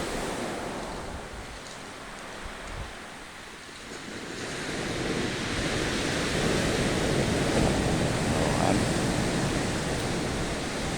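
Broad, steady surf noise of ocean waves washing onto Cibangban Beach, swelling louder after a brief lull, with wind rushing over the microphone.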